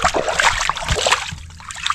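Water splashes and trickles continuously while a whole chicken is rinsed clean, the wet slapping and pouring sounding close and fairly loud over two seconds.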